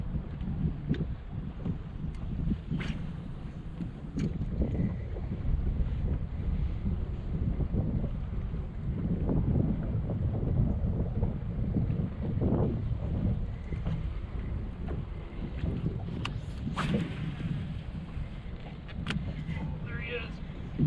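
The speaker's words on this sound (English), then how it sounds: "The wind blowing in back here. It's a warm wind too." Warm wind blowing across Lake Chickamauga during winter bass fishing from a boat, a continuous close rumbling buffet on the microphone with occasional knocks, while a person talks throughout.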